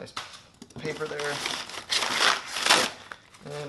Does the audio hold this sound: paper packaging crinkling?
yes